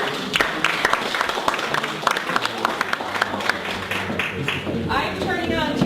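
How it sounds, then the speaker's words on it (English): An audience at an LA2M meetup gives a round of applause to welcome a speaker, with a steady patter of scattered hand claps and some talking mixed in. "why don't we give a round of applause to welcome Deb Nystrom to LA2M"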